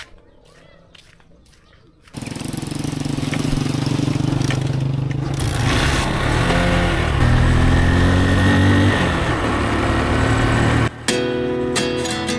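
Motorcycle engine running loud and close, a steady rough drone that starts abruptly after a quiet opening with faint voices and continues with slight revving before briefly dropping out near the end.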